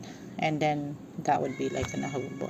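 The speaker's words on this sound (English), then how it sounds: "that's my cat" A pet cat meows twice in quick succession close by, then talk continues over further faint vocal sounds.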